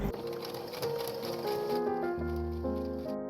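A sewing machine stitches around a gown bodice lining, a quiet, close whirring run of rapid stitches that shifts pitch as it slows near the end.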